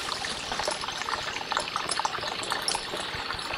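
Natural spring water trickling and splashing in a small forest stream in the Caucasus mountains near Psebay, a steady close babbling flow with no voices.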